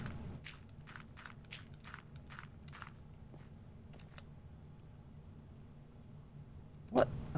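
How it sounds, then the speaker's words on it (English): Dogs bark somewhere in the background of a room, a rapid string of faint yaps in the first few seconds, then quiet, then one louder bark near the end. "Sorry if you hear my dogs in the background."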